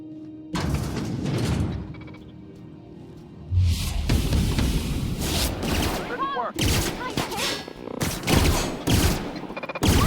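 Gunfire in The Outer Worlds, aimed at malfunctioning robots: repeated loud bursts and volleys of shots over roughly ten seconds, mixed with mechanical whirs and clatter in a chaotic firefight.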